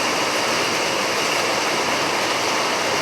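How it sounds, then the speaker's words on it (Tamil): Rain falls steadily in a home garden, a continuous broadband hiss of drops with no breaks, fairly loud and close. "என் கை மேலெல்லாம் மழை துளிகள் விழுது."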